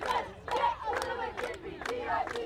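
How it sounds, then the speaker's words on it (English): A sideline of ultimate frisbee players at a tournament chants loudly to fire up their team, with rhythmic bursts of shouted cheering repeating every half second or so, close and energetic. "the sideline gets them pumped up here with a cheer"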